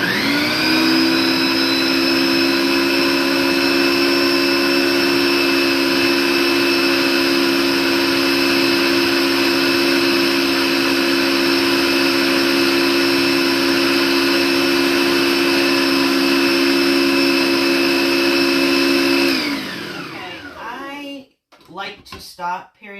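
A food processor blends nuts into nut butter with a loud, steady motor whine that holds unchanged for about twenty seconds, then winds down and stops, followed by brief clattering.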